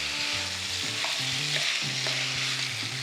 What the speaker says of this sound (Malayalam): ഇപ്പം ഹൈ ഫ്ലെയിമിലാണ് ഇരിക്കുന്നത്. ഒരു 4-5 മിനിറ്റ് ഹൈ ഫ്ലെയിമിൽ ഒന്ന് കുക്ക് ചെയ്യുക.